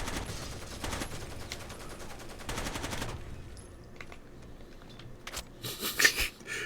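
Rapid automatic gunfire from Rainbow Six Vegas 2 rattles in dense bursts for about three seconds, then sparser isolated shots and a loud crack near the end over game ambience.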